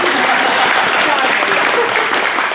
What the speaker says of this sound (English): You can clap for Shelby.